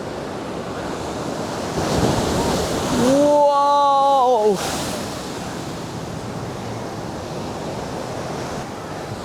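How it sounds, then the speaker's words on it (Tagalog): Powerful surf roars and crashes continuously nearby on the coast of Malta, with rushing wind noise, and a person exclaims loudly partway through. "Ang lakas ng alon."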